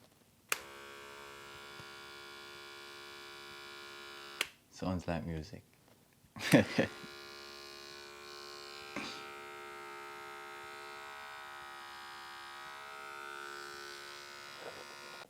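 Cordless Andis Envy Li hair clipper, freshly cleaned, oiled and blade-aligned, runs with a steady close electric buzz and hum, briefly interrupted by a few handling clicks and a short spoken remark.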